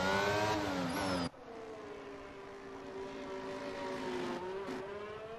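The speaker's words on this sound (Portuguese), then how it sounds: "O motor do Albon fez um barulho tão estranho que eu achei que ia quebrar." Albon's Formula 1 car in the F1 22 video game with an oddly behaving engine, a loud high-pitched whine that cuts off abruptly, then a lower droning engine tone that keeps shifting in pitch.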